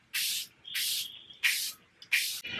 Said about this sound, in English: Airbrush Flawless Setting Spray from Charlotte Tilbury.